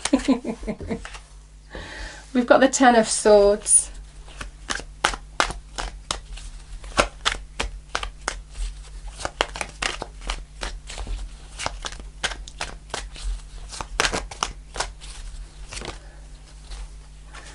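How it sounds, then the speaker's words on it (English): A deck of tarot cards is shuffled by hand, giving rapid, crisp riffling clicks and soft slaps in close, steady bursts. A voice briefly names a card partway through. "Let's just juggle a bit more, or shuffle a bit more"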